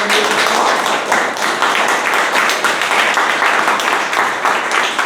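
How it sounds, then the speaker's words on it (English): A room of club members at a Toastmasters meeting gives a guest a big round of applause, steady and loud clapping that fills the whole stretch without a break. "So can we have a huge round of applause?"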